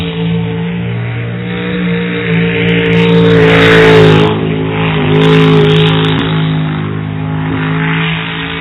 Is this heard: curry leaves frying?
no